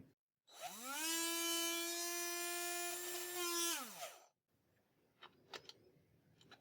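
A small high-pitched drill whines steadily for a few seconds, spinning up and winding down, followed by a few faint clicks and taps.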